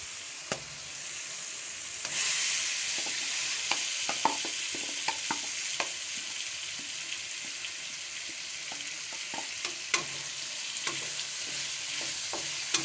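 Potatoes fry with tomatoes in a karahi over medium-low flame, giving a continuous soft sizzle with scattered clinks and scrapes of stirring; no one speaks.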